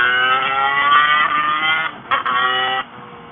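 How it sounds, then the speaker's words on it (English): A 56hp Lambretta Casa Performance SSR 265 LC scooter screams along the road, its two-stroke engine holding a loud, steady buzzing whine, dipping briefly on a gear change before climbing again and dropping off near the end. "56 horsepower in a Lambretta on the road is a lot"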